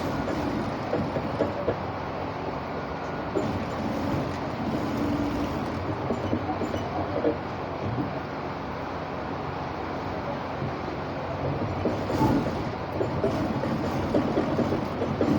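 A sewing machine runs a double row of stitches along a trouser waistband, a steady close mechanical whirring and rattling that continues without pause, with faint creaks and clicks throughout.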